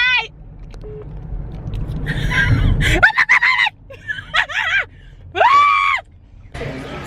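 A woman screams with excitement in loud bursts, high wavering shrieks broken by short pauses and gasps, close to the microphone.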